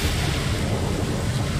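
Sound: ocean waves in the video game ATLAS

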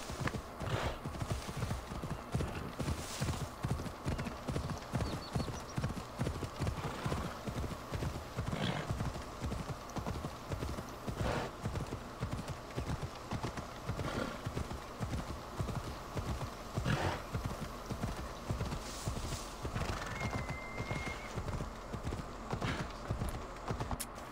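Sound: horse hooves while riding in Assassin's Creed Odyssey video game

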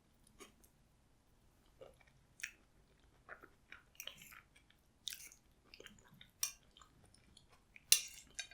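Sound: chewing a home-cooked green bean dish

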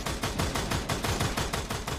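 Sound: M60 gunfire in a video game

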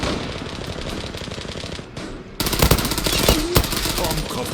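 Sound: gunshots in the video game Zula

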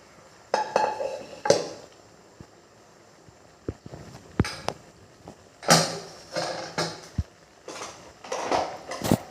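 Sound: squid being stirred with cumin and curry leaves in a pan

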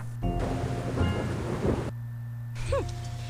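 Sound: rain and thunder in the Cluefinders video game

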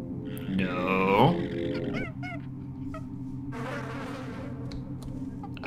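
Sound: swarm of bees buzzing in video game System Shock 2

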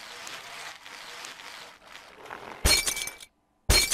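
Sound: glass breaking and shattering in the video game Happy Wheels

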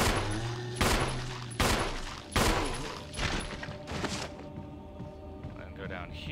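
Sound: gunfire in video game Resident Evil Remake HD

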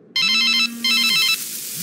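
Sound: mobile phone ringtone ringing

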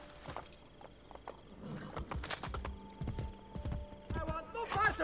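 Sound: horse hooves and neighing in the video game Assassin's Creed Brotherhood

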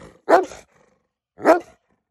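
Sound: German shepherd dog growling and barking

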